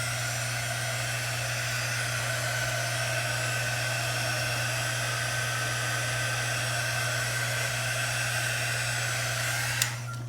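A hair dryer blows steadily and loudly on a chalk craft project, a continuous close whooshing roar with a low hum that runs unbroken throughout, with no talking.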